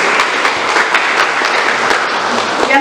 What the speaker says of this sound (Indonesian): Tepuk tangan untuk Fakultas Tarbiyah.